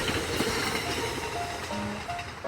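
Electric train running along rails, a steady dense rumble with faint rhythmic clatter and brief thin squeals from the wheels, continuous and fairly close throughout.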